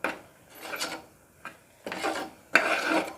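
A spatula stirs ground pepper, cumin powder and salt into a masala in a pan for country chicken curry, giving four separate rasping scrapes with short quiet gaps between them, close and fairly loud, with no voices.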